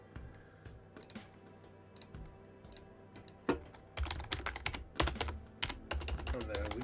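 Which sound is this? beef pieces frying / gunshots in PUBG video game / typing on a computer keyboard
typing on a computer keyboard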